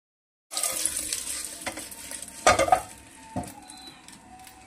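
Bread set into a preheated pan on a gas stove sizzles softly, with scraping and stirring clatter from utensils against the pan, a few louder knocks midway.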